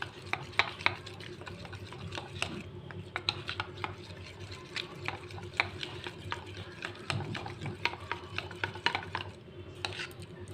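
Coconut mixture for kobbari junnu is stirred by hand in a bowl, producing a steady run of soft scraping and clinking strokes, close and fairly quiet.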